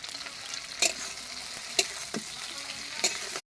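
Ginger-garlic paste sizzles steadily in plenty of hot oil while being stirred, with a constant frying hiss broken by a few sharp scrapes of the spoon against the pan.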